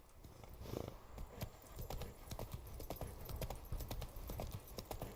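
Roach, a horse in the video game Witcher 3, trots along with rapid, steady clip-clopping hooves at close range, and there is no talk.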